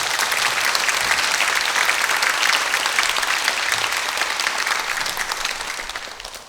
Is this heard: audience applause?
yes